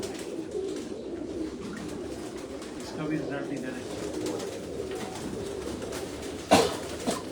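Rooftop pigeons coo in a steady low murmur throughout, with someone talking over them and a brief sharp knock near the end.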